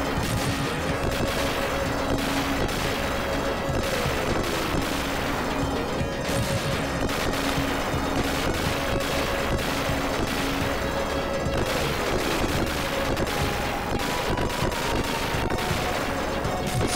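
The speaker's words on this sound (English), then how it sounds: "So many explosions!" Constant barrage of gunfire and explosions from the Sega Mega Drive game Gunstar Heroes, dense and loud throughout, with repeating electronic tones sounding over the chaos.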